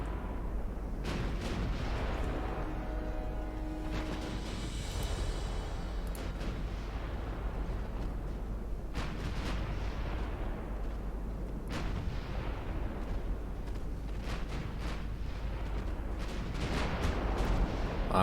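Naval gunfire from warships in Ultimate Admiral Dreadnoughts, a long barrage of booming salvos over a constant low rumble, with shots repeating at irregular intervals.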